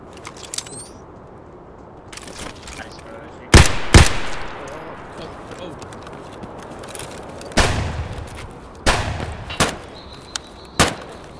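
Gunfire cracks out in Escape from Tarkov during a scav fight: several sharp shots, some single and some in quick pairs, arrive at irregular intervals, with some loud and close and others fainter against a quiet background.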